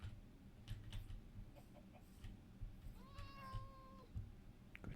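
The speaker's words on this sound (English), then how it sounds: "I hear the cat, don't see the cat." A cat meows once in the Minecraft video game, a clear drawn-out call that rises and falls over steady background game music and ambient noise.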